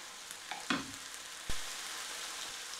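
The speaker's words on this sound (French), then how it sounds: "Ça va caraméliser un petit peu la viande et les légumes." Ground beef and vegetables frying with honey in a pan, a soft continuous sizzle broken by a couple of brief stirring scrapes and knocks, with no speech.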